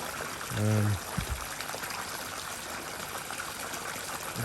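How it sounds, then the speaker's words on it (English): Water pours steadily into a pond during a bottom drain repair, a close, even rushing splash that aerates the water as it fills, with a brief low thump near the start. "as it fills the pool up, it's going to aerate it as much as possible for when it goes back in"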